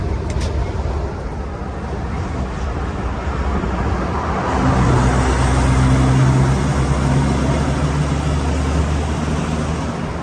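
Truck rolling into a short tunnel on a road in Wales, a steady road and engine roar that swells and turns more enclosed and boomy partway through, continuous with no talking.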